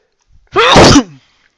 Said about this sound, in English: Sorry for the sneeze, guys.